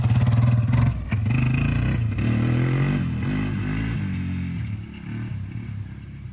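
A Yamaha Warrior 350 ATV with a clutch runs at a steady, throaty idle close by, with a brief rise in revs near the start before settling into an even, rumbling putter, with no voices.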